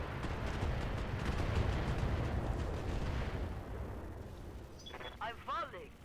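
A long-range missile barrage in the mech game BattleTech lands as a dense, rumbling roll of explosions, loud at first and fading, before synthetic voice chatter cuts in at the end.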